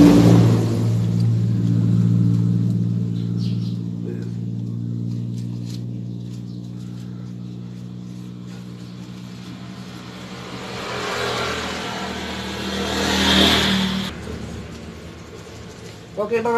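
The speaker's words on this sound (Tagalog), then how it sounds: "Ito po yung maingay sa kanyang transmission" A Honda TMX155 motorcycle engine with a noisy, faulty transmission runs steadily at a low, droning hum, rising briefly in revs near the end, with someone talking over it throughout.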